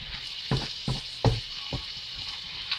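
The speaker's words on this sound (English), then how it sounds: "let's stir fry that for about 3 minutes with the vegetables" Vegetables stir-frying in a hot pan for chicken fried rice, a constant soft sizzle broken by four or five distinct spatula scrapes and knocks, close and without speech.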